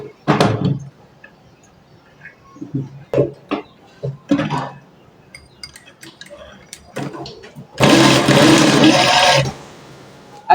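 A sewing machine stitching a double placket on a senator garment, a loud buzzing run of about two seconds near the end after scattered knocks and handling clatter.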